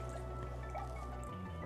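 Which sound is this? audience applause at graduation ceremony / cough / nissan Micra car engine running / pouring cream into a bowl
pouring cream into a bowl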